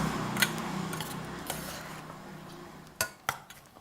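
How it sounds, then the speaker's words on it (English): Thai beef salad with lime and fish sauce mixed in a bowl, a few sharp clinks of utensils against the dish over a low background, with soft scraping between taps. "Mix in all those ingredients."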